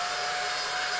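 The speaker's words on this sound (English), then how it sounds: "There's a supersonic dryer." A cartoon supersonic dryer blows a continuous, loud, airy roar that stays steady throughout, with no voices over it.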